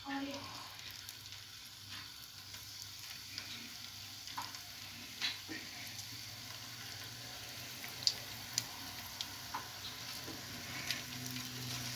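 Turkish meatballs (köfte) sizzle steadily in hot oil in a pan, a constant crackling hiss with occasional sharper pops and light scraping.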